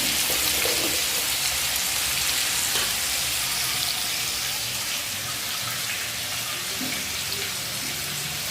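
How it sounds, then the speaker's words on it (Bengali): Water boiling hard in a pot on a home stove for rice, a dense continuous bubbling hiss, close and steady, with no speech. "জলটা বকরে ফুটছে"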